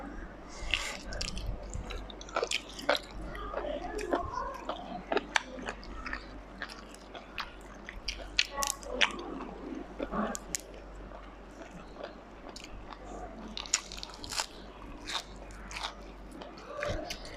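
Close, crisp crunching and biting as seafood shrimp from a tray is eaten with spicy dipping sauce, the irregular bites and chews continuing steadily with faint background sounds.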